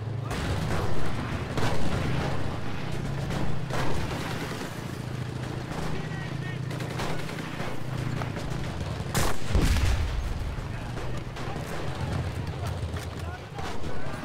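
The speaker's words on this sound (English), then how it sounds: "these tanks are just going off. There's two of them here." Tanks fire repeatedly in the World War II shooter game Enlisted, scattered booms and gunfire bursts under a rumbling battlefield bed, with a sharp loud blast near the middle while someone talks throughout.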